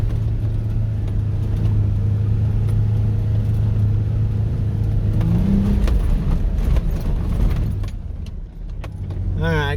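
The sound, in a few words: four-wheel-drive vehicle climbing in low gear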